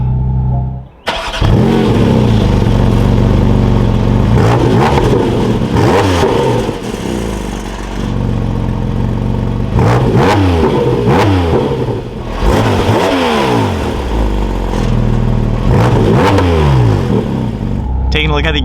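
A Porsche 718 Cayman GT4 RS Weissach fires up with a sudden loud roar after a quiet second, then its engine revs repeatedly in rising and falling sweeps, with a voice speaking between the revs.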